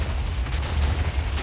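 A brief burst of overlapping in-game explosions on a square-block puzzle parkour map gives a heavy, crackling low boom that stays loud and close throughout.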